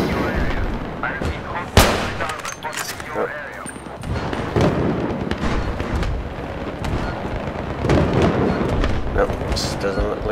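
Sniper and other gunfire in the video game Battlefield 3 on the Tehran Highway map, repeated loud shots and rumbling battlefield noise throughout, with someone talking over much of it.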